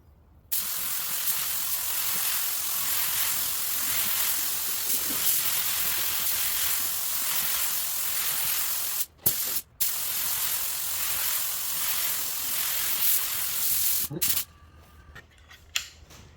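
A spray gun lays a light pearl intercoat with a small amount of pigment over a black base, a steady close airy hiss running almost unbroken, briefly cut off twice, then stopping near the end.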